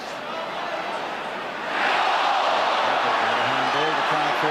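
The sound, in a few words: football crowd appealing for a handball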